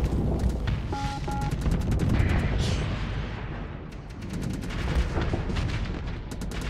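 Ship weapons fire in the Starsector space combat game, including a big laser, with dense rumbling blasts and repeated rapid bursts of shots layered over a steady roar.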